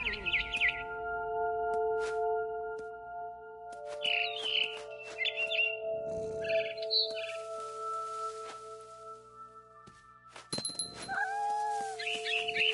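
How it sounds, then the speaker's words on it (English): Barn swallow chirps in the video game What Remains of Edith Finch: short, bright bursts of twittering come in a few scattered clusters over sustained, hovering musical tones, with no voices. "Then I heard chirping outside my window. It was a barn swallow going back to her nest."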